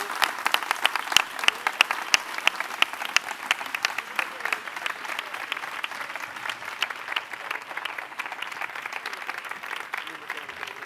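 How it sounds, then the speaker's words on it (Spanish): An audience at a cultural rights plan presentation breaks into sustained applause, a dense, even wash of many hands clapping that continues throughout with little change in level. "¿Alguien se ha quedado aplaudiendo por ahí?"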